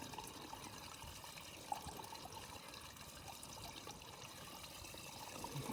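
Water trickling steadily as it drains into a dry well tank in a flooded yard, a faint, continuous hollow flow with no voices.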